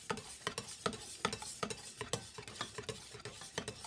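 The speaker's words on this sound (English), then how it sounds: "Now I'm gonna whisk all this together." Whisk beating wet ingredients for oatmeal apple cookies in a bowl, producing a steady run of quick, evenly spaced clinks and scrapes. The strokes come close and fairly loud with no talk.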